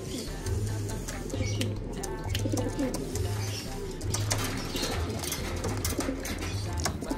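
Pigeons cooing in agitation, a repeated low rhythmic coo recurring about every second for several seconds against a busy background of rustling and faint noise.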